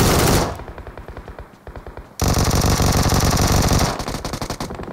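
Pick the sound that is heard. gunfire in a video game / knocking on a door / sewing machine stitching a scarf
gunfire in a video game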